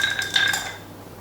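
A cocktail being stirred in a mixing vessel gives a few light metallic clinks and a soft swirl of ice, close and brief, then fades quietly.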